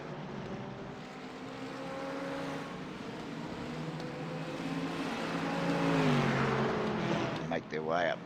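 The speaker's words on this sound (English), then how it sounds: "Good mix of cars out on track tonight." GT4 race cars drive past on a track at night, their engines droning and rising in pitch as they approach, then sweeping sharply away near the end, under a commentator's voice.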